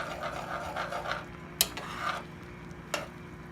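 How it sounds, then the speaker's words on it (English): Soft scraping and stirring of a spoon through a pan of curry as a teaspoon of curry paste is mixed in, with a couple of sharp clinks against the pan, quiet and close. "So I'm just going to add a teaspoon of curry paste and give it a little stir there."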